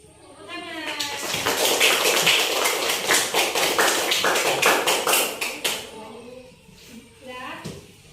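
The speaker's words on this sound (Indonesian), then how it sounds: "Tepuk tangan." Classroom students clap hands during a teaching practice lesson, a quiet start swelling into a loud, dense burst of rapid clapping for several seconds, then fading to a few scattered claps with children's voices around it.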